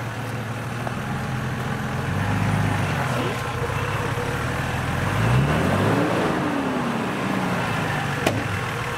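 A 4x4 daily driver climbs a hill on an off-road track, its engine droning steadily up close and rising briefly in pitch as it works up the slope.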